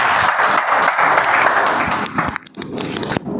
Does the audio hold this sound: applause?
yes